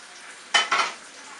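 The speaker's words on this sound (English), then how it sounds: "Move this pan around." A pan shuffled across a stovetop while food fries, two quick close scraping bursts over a low continuous sizzle, no voices.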